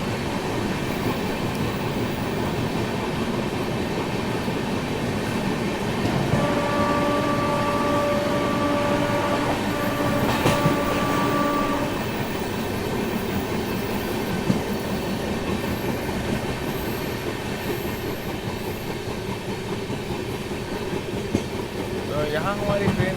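A Duronto express train runs at speed through Odisha, a loud continuous rumble of wheels and carriages with rhythmic rail clatter and brief tonal squeals midway, heard from on board.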